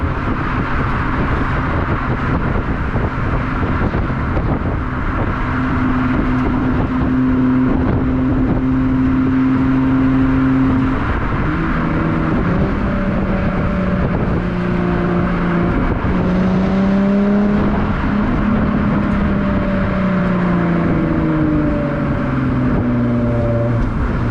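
A Jaguar XF engine pulls hard in third gear, its loud, steady in-cabin drone climbing in pitch as the car accelerates, with a brief dip around a shift before rising again, and no talking.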